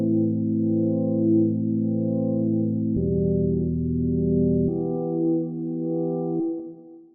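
A dark FM synth pad built from simple sine waves in Ableton's Operator, sustained held chords changing three times, smooth and steady, fading out at the end with no voice.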